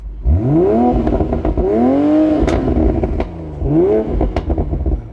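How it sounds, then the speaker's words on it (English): A Toyota GR Yaris or Supra engine revs hard several times nearby in sport mode, each rev rising in pitch and then dropping back to a rumbling idle. "Give it a rev."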